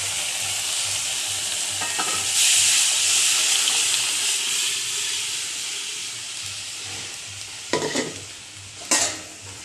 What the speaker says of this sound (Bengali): এবার ডালটা ফোড়ন দিয়ে দেবো।